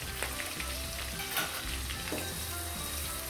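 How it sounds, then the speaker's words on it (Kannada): Green chillies fry in oil with a faint, steady crackling sizzle and occasional soft stirring scrapes, heard close and quiet with no talk. "ಇವಾಗ ನೋಡಿ ಚೆನ್ನಾಗಿ ಎಣ್ಣೆಯಲ್ಲಿ ಹಸಿಮೆಣಸಿನ್ಕಾಯಿ ಫ್ರೈ ಆಗಬೇಕು."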